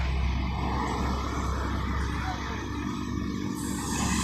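A Sempati Star tronton (tri-axle) coach idles before departing Palembang, with a steady low diesel rumble and a faint hiss over it.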